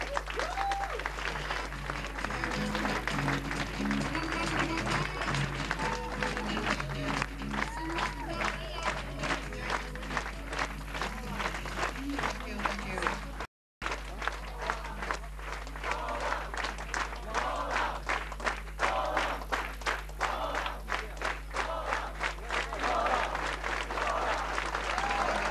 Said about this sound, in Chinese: 有資格的掌聲 Go！